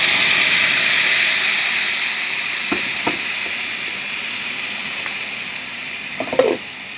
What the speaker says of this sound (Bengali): এখন কোপ্তা কারির জন্য মশলাটা পেস্ট করেছি দিয়ে দেবো।